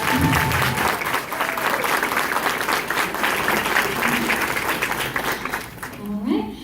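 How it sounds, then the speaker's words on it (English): Sustained applause from an audience at a fifth grade band concert, dense steady clapping filling the hall and tapering off near the end as a voice begins. "round of applause for our fabulous fifth grade band members"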